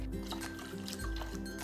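Cold water pours into a bowl for cucumber kimchi broth, a soft, quiet splashing trickle heard on its own.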